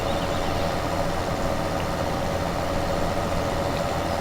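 A tractor engine in Farming Simulator 17 hums steadily as the machine drives on GPS along a field edge, a constant mid-pitched drone with no change in load and no talking.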